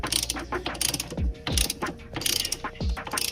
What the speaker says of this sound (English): you got the Snap-on ratchet with the Harbor Freight socket